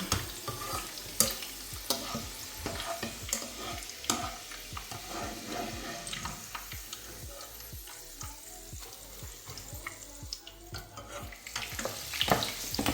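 Browned garlic fries and is stirred in a pan of prawn pickle, with a steady oily sizzle broken by frequent scraping clinks of a spoon against the pan, close and fairly quiet, with no one talking.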